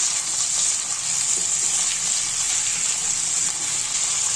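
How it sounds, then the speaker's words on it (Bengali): Cut and washed hog plums (amra) fry in a pan for a chutney, giving a loud, steady, hissing sizzle throughout, with faint stirring movements beneath it and no talking. "আমড়াগুলো এবারে ভালোভাবে নেড়ে চেড়ে মিশিয়ে নিচ্ছি"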